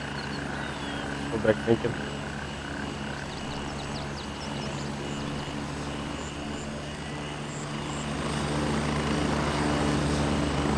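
Helicopter rotor and engine drone in a Ban Pa video game match, a steady low throb that swells louder toward the end, with voices talking over it.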